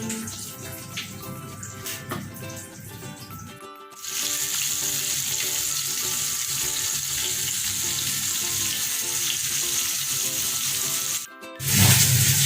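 Steady, loud sizzling of eggplant frying in a pan, a continuous crackling hiss with brief pauses and stirring noises, no talking.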